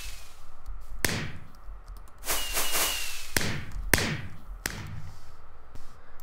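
Minecraft fireworks from the 1.4.6 update burst in the game with red, white and blue colors: several sharp, loud cracking pops spaced about a second apart, some followed by crackling sizzle, with no talk.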